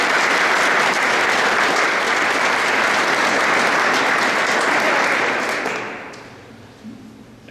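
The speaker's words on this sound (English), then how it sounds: "please help me thank them and give them a round of applause" Loud, dense audience applause at a fire chief ceremony in Golden, Colorado, holding steady for several seconds before fading out into near silence.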